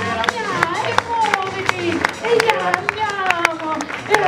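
A cabaret audience claps to welcome a couple onto the stage, sharp scattered claps under lively crowd voices and overlapping talk.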